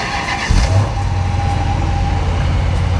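A 2014 Dodge Challenger driving, its engine giving a steady low rumble that swells after a brief rise in revs, heard close and loud throughout with no talking.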